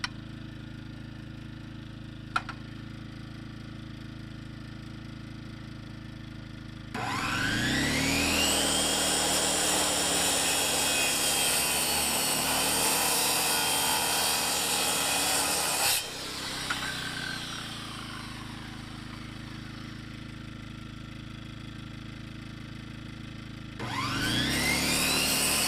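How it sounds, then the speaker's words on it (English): A tool cutting through material while working in the garden, loud steady rasping in two long bursts of several seconds each separated by a brief pause, and a third starting at the end, over a low constant background hum. "Okay, now I'm gonna start cutting."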